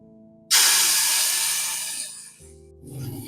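Whole spices such as cloves, cardamom and cinnamon hit hot oil with a sudden loud sizzling hiss for a biryani base. The hiss fades gradually, followed by a brief clatter and a renewed, softer sizzle.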